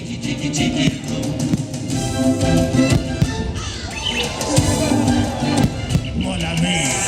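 Animatronic birds squawk and chatter through the Enchanted Tiki Room show at Disneyland in Anaheim, loud, busy calls layered over music and crowd noise in the theater.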